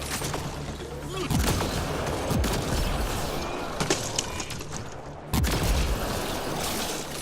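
Heavy weapon gunfire in the sci-fi shooter Mass Effect: Andromeda, set on an icy planet, with a few punchy loud blasts landing over a dense, continuous backdrop of combat noise.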